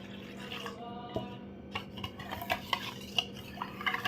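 Water poured into lassi and stirred, a spoon scraping and clinking against the vessel in uneven strokes with soft splashing, close but quiet over a low steady hum, no voices.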